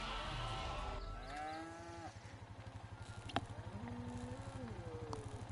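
Cow mooing in the Lego Jurassic World video game, two drawn-out, wavering moos rising and falling over a steady low rhythmic game hum, with a brief sharp click midway.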